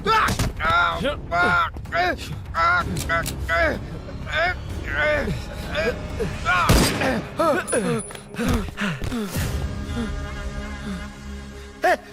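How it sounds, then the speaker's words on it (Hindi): Gunfire erupts in a Hindi-dubbed South Indian thriller action scene, with sharp shots and heavy thuds crashing through shouted dialogue and tense background score, building to a loud burst midway before the voices carry on. "गोली क्यों चलाई?"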